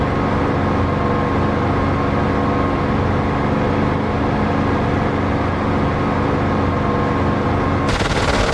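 Enemy gunfire in the DCS flight simulator game, dense continuous machine-gun bursts roaring loud and unbroken over an engine drone, with a sharp change near the end.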